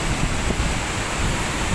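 A waterfall pours beside the mountain road from Beni to Muktinath in Nepal, a dense, steady rushing roar heard up close for a brief moment.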